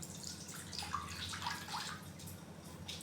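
Water is poured into a kadai (wok) while making a plum and tamarind sherbet, a faint, steady splashing and trickling for a few seconds with no one speaking.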